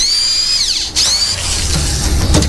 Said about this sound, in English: Have you ever used a drill like that before?